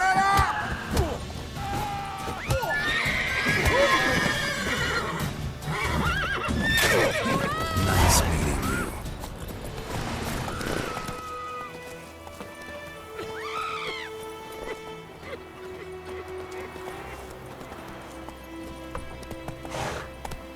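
Horses whinny and neigh several times over clattering hoofbeats and loud crashing action in The Witcher 3: Wild Hunt video game, then calmer neighs and snorts over a quieter background.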